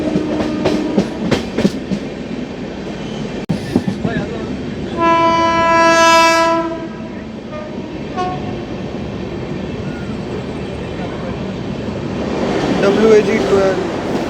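A Garib Rath express train pulls into Gudur Junction, its horn sounding in a long steady blast over rumbling wheels and carriage noise, with clattering and squeals rising again near the end; a voice talks briefly.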